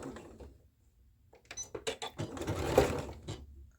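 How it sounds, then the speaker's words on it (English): A sewing machine topstitches the edge of a dress pocket on a Butterick 6942 skirt. A faint whir comes first, then a pause, then a louder run of rapid stitching bursts, close up. "stitch the edge of the pocket. I like my pocket edge top stitch."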